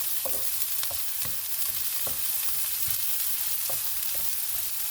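Onions fry in a pan until lightly browned, a steady dense sizzle with occasional stirring scrapes and small pops, close and continuous with no talk.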